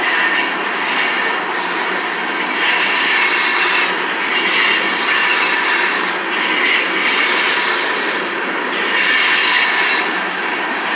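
A Union Pacific freight train, locomotive 6660, rolls past at Altamont, Illinois with its brakes applied, giving a loud, steady roar of wagons and wheels with high squealing tones that swell and ease in waves, with no voices.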